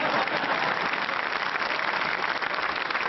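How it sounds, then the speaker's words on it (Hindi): An audience at a televised Hindi comedy poetry gathering in Jaipur applauds, a dense, steady wash of many hands clapping at once, loud and unbroken with no voices. "ताली बजा।"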